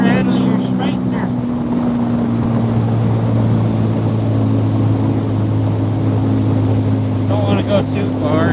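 A speedboat named Prestige Worldwide on its first trip out: a loud, steady motor drone with a strong low hum holds throughout, mixed with water rush, and a voice speaks briefly near the start and end.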